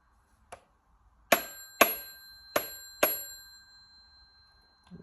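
An old LM Ericsson Dialog telephone, a Teli-made model, rings its bell in four sharp metallic strikes spaced about half a second apart, each leaving a bright ringing tail, close and with no voices.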